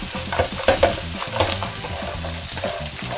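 Crab stir-fried in a small wok with scallion, garlic and dried chili, loud bursts of sizzling and clattering as the spatula tosses the pieces in quick uneven strokes.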